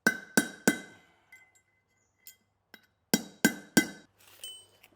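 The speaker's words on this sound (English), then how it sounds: "just using that punch tool, just punch out that inner race" Sharp metallic strikes of a punch tool driving out the inner race of a trailer wheel bearing, a quick burst of three hard knocks, a few faint taps, then three more ringing blows close up.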